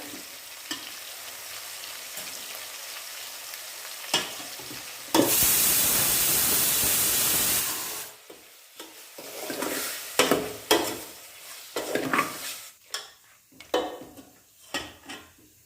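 Mutton being stirred in a pan with turmeric and salt for spicy Kolhapuri mutton, with repeated scraping and clinking of the spoon, a loud hissing sizzle burst in the middle, then uneven stirring knocks and scrapes.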